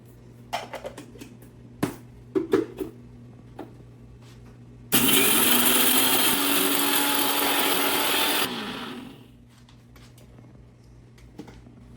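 A kitchen mixer grinder pulverises mustard, cumin, fenugreek and pepper seeds into powder, one loud close whirring burst of about four seconds after scattered light clicks and knocks, then quiet.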